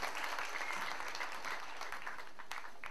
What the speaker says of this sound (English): big clap of hand, please,